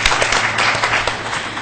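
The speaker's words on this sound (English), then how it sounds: "If we might give them a round of applause." A live audience at a Vibrant Living Expo panel in Fort Bragg applauds, with a dense wash of clapping hands filling the short stretch at a steady, fairly loud level.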